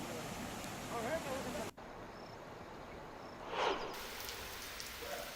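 Heavy overnight rain falls steadily in Dharashiv district, Maharashtra, making a dense, even hiss close by. A brief dip and a few soft swells break the downpour, and no voices are heard.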